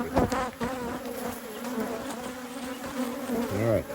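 Honey bees swarm around an open hive during a box addition, a dense continuous buzzing hum close by, steady throughout with a few louder swells as individual bees pass near.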